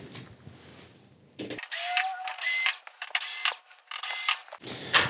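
Screws come out of a circuit board in a Vizio E470VA television: a series of short, close, dry ratcheting clicks and metallic squeaks from a screwdriver in several bursts, with quiet pauses between them.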